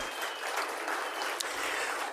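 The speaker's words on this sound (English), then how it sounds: "big round of applause for our winners there" Audience at a First Nations awards ceremony applauds the winners, a sustained, even roar of many hands clapping with no pause.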